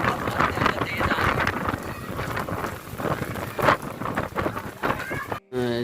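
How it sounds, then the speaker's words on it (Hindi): Rain falling in Karachi while strong wind blows, a steady dense hiss of rain and gusts at close range, with a brief dropout near the end. "बारिश इतनी तेज नहीं है"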